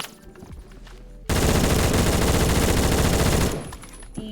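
An automatic gun fires in the shooter game Phantom Forces. A loud, unbroken burst of rapid shots lasts about two seconds, with quieter game ambience before and after.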